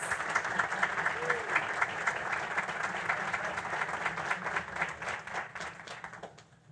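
A school board meeting audience gives a round of applause for reward schools: steady, moderately distant clapping with a low room hum beneath, fading out at the end.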